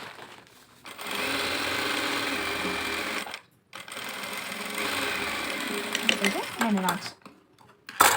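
A sewing machine stitches a blouse lining in two long steady runs of fast whirring needle strokes, close and loud, with brief pauses between and a short, faint voice near the end.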